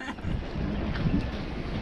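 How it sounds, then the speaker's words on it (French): A steady roar of wind buffets the microphone, with a low rushing rumble near water throughout. "Là, on entend la rafale qui arrive."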